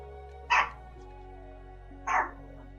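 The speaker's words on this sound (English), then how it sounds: "What are you barking for?" A dog barks twice indoors, two short sharp barks about a second and a half apart, heard alone over a low steady hum.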